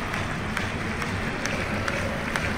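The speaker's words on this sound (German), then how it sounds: "Mannschaft kriegt den absolut verdienten Applaus" A football stadium crowd applauds the team after a Schalke versus Wolfsburg match, a distant, even wash of clapping with occasional sharper claps standing out.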